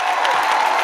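A brief, loud burst of a crowd's round of applause, with dense hand clapping and faint cheering packed into under a second.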